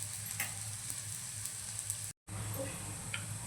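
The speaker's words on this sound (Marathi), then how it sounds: "आता दुसऱ्या साईडने आपण तूप सोडून घेऊया आणि खमंग असं थालीपीठ आपण भाजून घेऊया" Thalipeeth flatbread roasting in ghee on a hot pan gives a steady close sizzle with faint crackles, interrupted by one brief silent gap, no talking.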